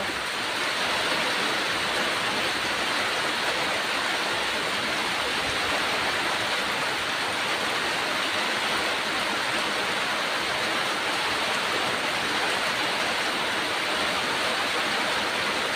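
Heavy rain during the rainy season falls in a steady, dense roar that never lets up and stays loud and close throughout, with no voices.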